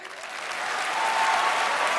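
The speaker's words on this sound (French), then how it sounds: "Applaudissez tous en même temps pour voir mon trophée" A crowd applauds together, the clapping swelling from moderate to a loud, dense ovation.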